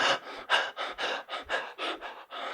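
A voice imitates the ragged panting of a dying woman: about ten quick, breathy gasps in a steady rhythm, close and fairly loud, with no words spoken.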